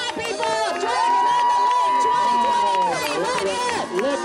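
A crowd cheers at a championship race, loud and continuous, with a voice shouting excitedly over the noise.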